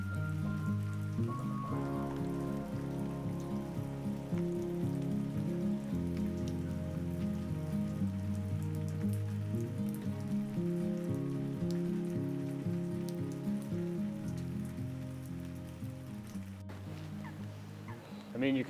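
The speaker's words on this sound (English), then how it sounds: "I'm out here filming in the rain" Autumn rain falls on outdoor surfaces as a steady, soft hiss of drops that continues throughout beneath a layer of music.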